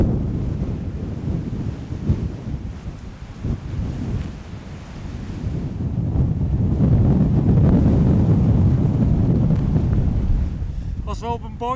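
Strong wind at the coast roars and buffets the microphone steadily, with surf beneath it, loud and continuous and rising toward the end.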